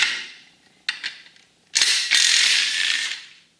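Ratchet wrench backing out 12 mm bolts on a seized Kawasaki 15F jet ski jet pump: a couple of short clicks, then a longer burst of rapid close ratcheting, fairly loud, with no talk.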